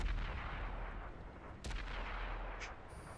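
Gunfire from a magazine being emptied in a competitive esports match, a dense continuous rumble of shots with a couple of sharper bursts, fairly loud and without talk.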